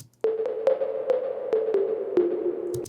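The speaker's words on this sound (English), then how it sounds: "here's a high 808 toms with a lot of reverb on them" High 808 toms drenched in heavy reverb play a leading melody line, a string of sharp pitched hits, several in quick succession, each sustaining into a long ringing tail, alone with no talk.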